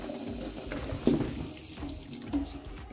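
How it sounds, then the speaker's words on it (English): Water runs steadily from a kitchen tap into a bowl of doughnut-infusion mix, a continuous close splashing stream with a slight surge in the middle, no talk over it. "Add some water."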